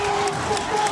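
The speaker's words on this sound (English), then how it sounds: "the crowd are going crazy" Loud crowd cheering and roaring at a beach volleyball 4x4 gold medal match between Qatar and USA, a dense continuous wall of voices with a commentator's voice over it.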